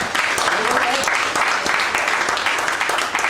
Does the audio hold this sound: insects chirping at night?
no